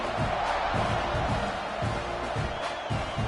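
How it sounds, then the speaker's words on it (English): A football stadium crowd buzzes steadily after a touchdown in a college football video game, Missouri at Texas A&M, a dense roar of many voices sustained throughout without a break. "this crowd is buzzing after that last score"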